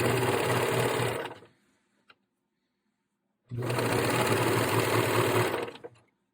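A sewing machine runs in two loud sustained bursts as it stitches around the leg opening of boyshort underwear, with a pause and a faint click between them.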